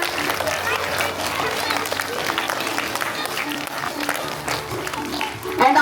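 An audience at a school Founders Day celebration applauds for a class teacher, with dense, continuous clapping from a crowd that swells briefly at the very end.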